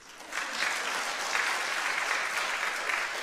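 Church congregation applauding together in a sanctuary, a steady dense wash of many hands clapping that holds evenly for a few seconds.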